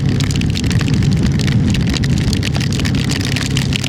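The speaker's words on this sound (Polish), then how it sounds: "To ni to deszcz, ni to grad." Heavy rain mixed with hail pelts down steadily in Morocco, a dense patter of hard drops striking surfaces close by without a break.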